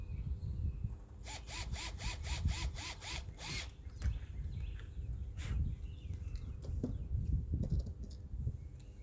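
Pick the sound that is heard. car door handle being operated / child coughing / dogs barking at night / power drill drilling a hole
power drill drilling a hole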